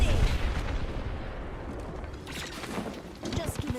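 Gunfire in a shooter video game rattles in bursts and heavy booms, growing denser with sharp cracks near the end, while a voice talks over the shooting.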